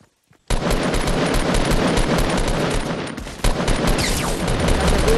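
Sustained rapid automatic gunfire in Fortnite erupts after a brief quiet start and continues densely and loudly throughout, with a harsh game-like sound and no pauses.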